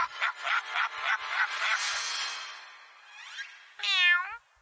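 An animated kitten in the film The Emperor's New Groove lets out one loud, clear, wavering meow near the end, after a stretch of rhythmic rubbing and scraping sounds. No one speaks.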